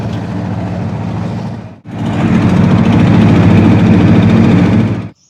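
A trawler boat's engine runs steadily on a river, a loud, continuous low chugging drone that briefly cuts out before resuming at full strength with no talk over it.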